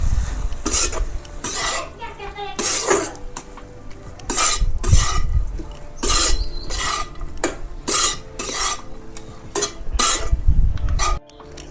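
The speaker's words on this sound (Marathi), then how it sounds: "आता मस्त अशी भाजी हलवून घेते" A wild vegetable dish being stirred in a pan, with loud, close bursts of a utensil scraping and clanking against metal in an irregular rhythm over a faint sizzle.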